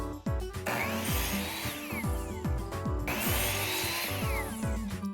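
A power saw slices through a wooden support board for a closet shelf, with a loud, steady whining cut that surges twice as the blade bites into the wood, the motor running continuously throughout.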